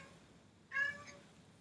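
A single house cat lets out one clear, close meow partway through, briefly rising and falling in a quiet indoor room.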